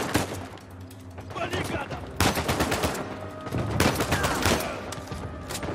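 Assault rifle gunfire in Uncharted 4, loud automatic bursts in several clusters over continuous combat noise, with no talk.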